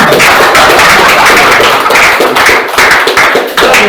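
Loud, dense applause from a large audience at a business talk on resilience, a continuous wash of many hands clapping close by and filling the whole stretch without a break.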